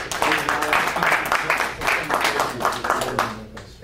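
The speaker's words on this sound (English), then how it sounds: "let's give Dad a round of applause for" Audience clapping in a room at a school board meeting, brisk and sustained for several seconds, then tapering off near the end.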